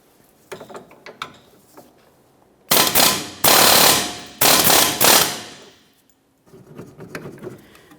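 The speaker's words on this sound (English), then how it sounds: "I'm going to start back here with my air hammer" An air hammer strikes a 2010-2013 Kia Forte Koup's rear wheel hub in loud, rapid-fire bursts, four or so long rattling runs separated by brief pauses, with quieter clanks before and after.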